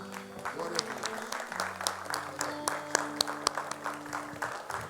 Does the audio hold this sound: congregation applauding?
yes